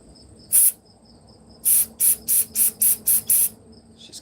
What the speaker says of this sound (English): the jet itself is not clear, so let's just spray it.